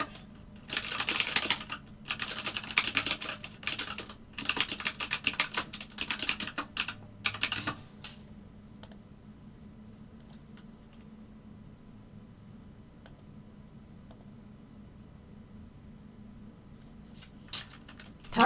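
Rapid, close clatter of typing on a computer keyboard in bursts for about eight seconds, then fading to occasional faint taps over a quiet room, no voices.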